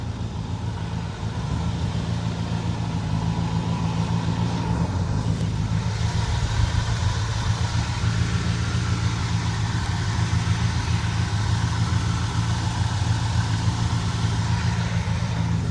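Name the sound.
Ford F250 390 V8 engine idling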